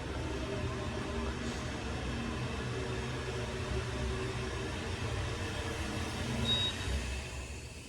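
An Otis hydraulic elevator motor in a Denver parking garage runs with a steady, loud, broadband hum and whir that holds evenly throughout without pauses.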